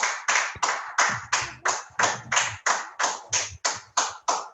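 A congregation clapping to acclaim the Lord during a church service: crisp, close claps in a steady unison beat, about fifteen in a row, each sharp and evenly spaced, with faint low murmurs between some of them.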